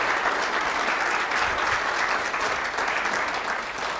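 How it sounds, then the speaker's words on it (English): A church congregation applauds military veterans, dense sustained clapping filling the room, steady and loud with no talk over it. "I want you to give these men a great big hand clap of appreciation."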